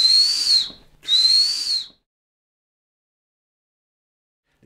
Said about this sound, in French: Les sobelets, c'est des sifflets.